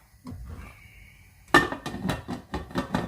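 A metal lid clanks down onto a large pressure canner, followed by several sharp metallic knocks and rattles as it is settled into place.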